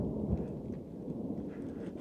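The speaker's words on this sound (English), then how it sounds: "can hear the thunder" Distant thunder from a storm rumbles low and steady for a couple of seconds, heard from near a parked car with its windows and roof vent closed, with no voices.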